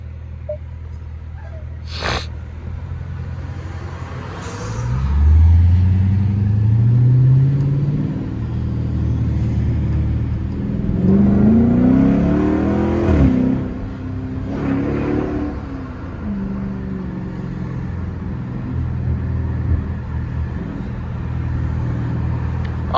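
A Chrysler 300S engine revs in short bursts, its deep rumble rising and falling in pitch over a steady idle, loud and close, with no talking.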